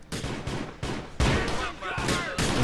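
Sawed-off, fast-reloading shotgun firing in the video game GTA 4: The Lost and Damned: about six loud, close blasts in an uneven rhythm, each with a sharp crack and short decaying tail.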